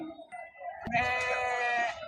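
Sheep and goats bleat at a livestock market in Maştağa, Azerbaijan, a short clear nearby bleat rising after softer animal calls and faint background voices.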